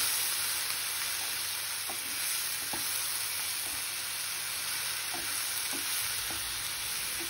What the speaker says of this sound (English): I'm going to stir and cook until they're nice and brown in color.